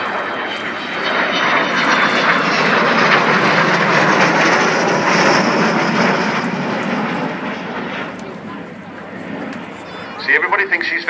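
An Avro Vulcan XH558 jet bomber flies past at the RAF Cosford airshow, a broad roaring engine wash that builds, holds for several seconds and then fades as a commentator talks over it.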